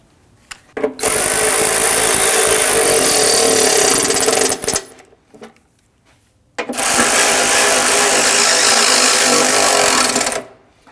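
A loud power tool snugs down bumper bracket bolts on a Ford Taurus during an active grille shutter replacement, two long, harsh whirring bursts of several seconds each with a short break between, close and dominant.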